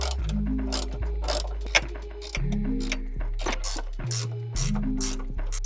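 A hand ratchet cranks bolts tight on a plate, producing rapid, close clicking bursts in repeated strokes with short pauses between them and no talking.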